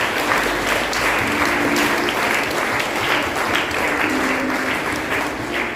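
A church congregation claps loudly and steadily throughout, a dense, sustained round of applause from a large crowd, with a faint tone held underneath.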